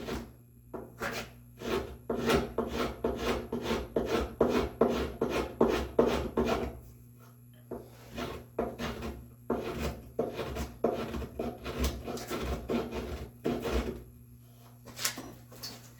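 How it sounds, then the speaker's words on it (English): A hand rasp files walnut wood in repeated back-and-forth strokes, close and crisp, each stroke a scratchy rasping burst in a steady rhythm, with a short pause midway before the strokes resume. "Also take a rasp."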